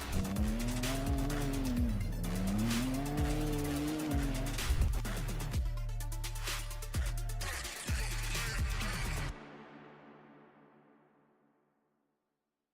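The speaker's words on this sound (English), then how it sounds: "Look at that Nitto tire just rip." A professional drift car on Nitto tires shrieks with sustained, loud tire squeal over a roaring, revving engine at a Formula Drift event in Orlando, then fades away and cuts to silence.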